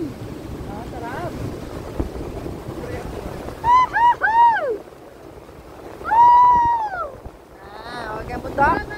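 Strong wind at Cong Dadong Dam rumbles and buffets the microphone in a steady low roar, while people talk and exclaim loudly over it in bursts.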